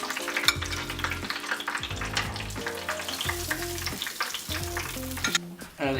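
Empanadas sizzle and crackle in hot oil, a dense, continuous frying hiss with bright pops, close and loud, with brief clinks from handling.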